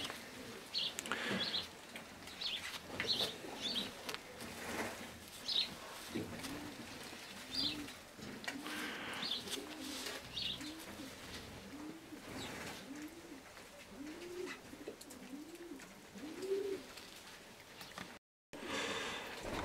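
Racing pigeons coo in a loft, a steady run of repeated low rolling coos through most of the stretch, with faint chirps and some wing flutter in the background.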